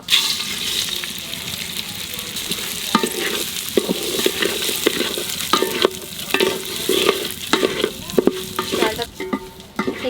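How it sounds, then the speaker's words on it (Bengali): Gobindobhog rice is added to ghee with clove, cinnamon and cardamom for bhuna khichuri and stirred, giving a continuous sizzle overlaid with rhythmic, close scraping and rattling strokes of the spatula, loud and busy with no talking. "এইবার গোবিন্দভোগ চাল দিয়ে দেবো।"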